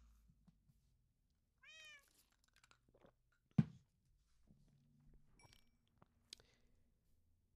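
A cat in the video game Minecraft gives one short, clear meow. It is followed by scattered soft clicks and one sharp tap, with no talking.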